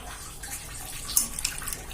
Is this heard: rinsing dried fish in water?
yes